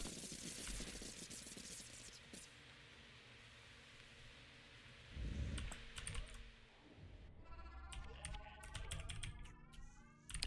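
Computer keyboard typing, soft rapid key taps in bursts, joined midway by a louder thump and other game-like tones and warbling effects, with keystrokes continuing faintly near the end.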